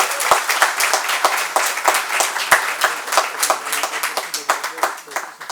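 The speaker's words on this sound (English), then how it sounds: "Can we have a round of applause for all of them?" An audience at an international pharmaceutical conference claps for the award winners, with a crowd of individual hand claps forming uneven, rhythmic applause that swells and fades at moderate volume.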